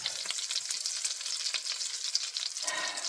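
Meatballs frying in a pan give a steady, close, crackling sizzle with small pops throughout, no voices over it.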